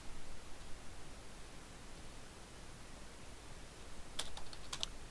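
A few quick, faint keystrokes tap on a computer keyboard while a password is entered, following a long stretch of quiet hiss.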